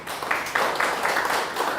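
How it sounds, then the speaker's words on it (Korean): A church congregation at a Sunday worship service claps briefly, a dense patter of hands at moderate level lasting under two seconds, with no talking over it. "그 말씀이 하나님께 영광의 박수를"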